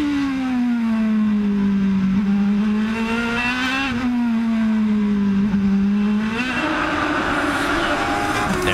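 IndyCar race cars sweep through a corner at the 2011 Honda Grand Prix of St. Petersburg, a loud sustained engine drone rising and falling in pitch as cars pass, with a brighter engine note joining near the end.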